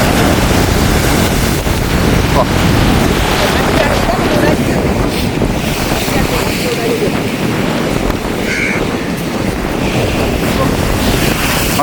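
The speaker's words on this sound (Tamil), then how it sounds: "பயங்கர காத்தடிக்குது ஒரு அடி அடிக்கும் பாருங்களேன்" Strong wind and heavy sea waves surge against a rocky, stone-protected shoreline in Jaffna, a loud, continuous roar with gusts buffeting the microphone throughout and a faint voice now and then.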